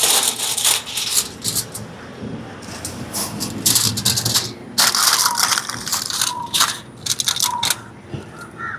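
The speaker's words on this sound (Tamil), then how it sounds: "அலுமினியம் ஃபாயிலால் இந்த மாதிரி வட்டிட்டு" Aluminium foil is crumpled and pressed into a round cover while cooking egg pudding, giving loud, close crinkling and crushing bursts in irregular clusters with short pauses between them.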